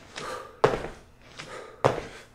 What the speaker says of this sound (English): Our first exercise is going to be jump squats.